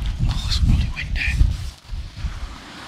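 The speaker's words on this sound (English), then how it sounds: "Oh, it's bloody windy." Gusty wind on a beach on the Holderness Coast buffets the microphone in low rumbling bursts, with a voice speaking briefly over the blustery noise outdoors.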